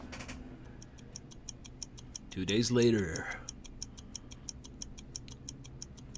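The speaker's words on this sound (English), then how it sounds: "Didn't know they had working clocks in the Metro." Steady clock ticking in the video game Metro Last Light, regular sharp ticks running through the whole stretch, with a brief spoken line over it partway through.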